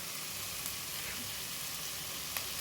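Onion samosa filling frying in a pan gives a steady, even sizzle throughout, close and moderately loud, with a faint brief clink partway through.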